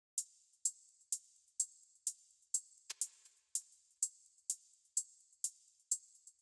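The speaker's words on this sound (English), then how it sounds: "the main thing here is just these two hi-hats where they're kind of like doing call and response" Two techno hi-hats trade off in call and response, a steady run of bright, crisp ticks repeating at an even pulse with one extra sharper hit partway through, close and alone with no voices.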